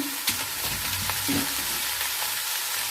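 Boiled beet, carrot and radish go into a hot frying pan for a Bengali pui mituli curry with spinach and prawns, giving a steady close sizzle with stirring scrapes throughout.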